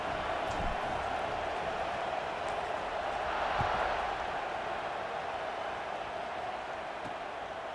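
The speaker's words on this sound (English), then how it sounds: "this crowd is buzzing after that last score" A stadium crowd in the College Football 26 video game keeps up a steady, dense buzz throughout, with a brief swell in the middle, beneath faint commentary-style talk.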